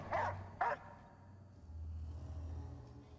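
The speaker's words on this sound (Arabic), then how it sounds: "صوت الكلب" Two short dog barks in a horror video game, Layers of Fear 2, loud and close in quick succession, followed by a low ambient rumble and faint unsettling background noise.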